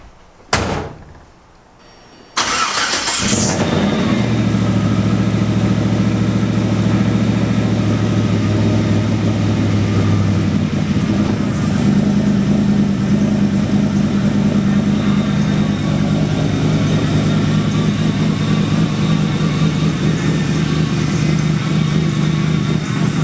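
A car door shuts, then an engine with an upgraded exhaust starts and runs at a steady, loud, droning idle for about twenty seconds, heard close with no talking.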